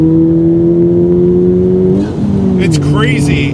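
Modified Honda Civic Type R engine with an upgraded inlet pipe accelerating, a loud steady drone with harmonic tones that dip as the engine shifts, then rises again with brief sharper sounds near the end.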